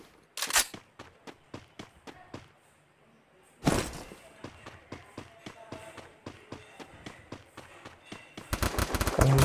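Gunfire in the mobile battle royale game Free Fire, played on a realme C3 phone: scattered single shots and rapid bursts, including a loud blast and a fast automatic volley at the end, with a player talking over it.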